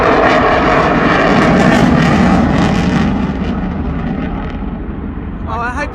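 A loud aircraft engine roars overhead at an air show, a steady dense rumble that slowly fades as the plane passes, with voices faintly present beneath.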